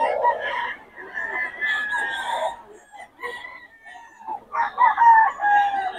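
A Boston Sweater gamefowl rooster crows at a busy chicken market, with repeated loud calls near the microphone and more crowing and clucking around it.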